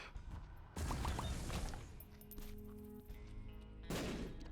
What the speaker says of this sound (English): You hear the change in the sound effect there from Brimstone, regular Brimstone to the Mega Shot